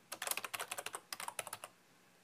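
Rapid typing on a computer keyboard while logging in, a quick close burst of about twenty crisp key clicks in two runs lasting under two seconds, then quiet.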